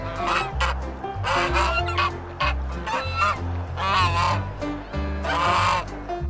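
A white goose honks repeatedly, loud and near, in bursts over a steady low droning background, with clucking fowl mixed in.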